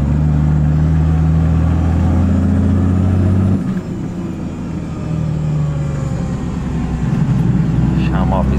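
A turbocharged GMC Silverado engine revs hard in third gear, a loud low droning growl that shifts pitch partway through, with voices talking over it.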